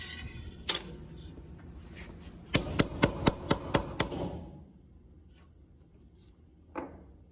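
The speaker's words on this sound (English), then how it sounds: "if any of the fret wires are sticking up, like this one you can see is sticking up a little bit, we're gonna tap that one down" Hammer tapping fret wires into an acoustic guitar fretboard, a quick run of seven sharp, evenly spaced taps close up, with a lone knock earlier and another faint one after a quiet gap.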